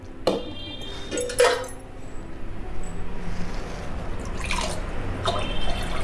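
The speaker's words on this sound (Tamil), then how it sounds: "இப்போது நம்ம பிட்லைக்கு தேவையான அளவுக்கு புளியை கரைச்சி விட்டுக்கலாம்." Tamarind water poured for pitlai in a home kitchen: intermittent drips and splashes with a couple of light clinks, then a steadier trickle of liquid close by.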